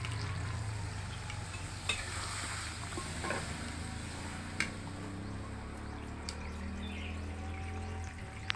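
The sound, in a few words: water added to frying spiced potato masala, sizzling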